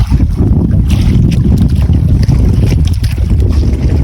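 Strong wind from a passing whirlwind roars steadily across open sea during a fishing trip, buffeting loudly with constant rushing noise and no voices.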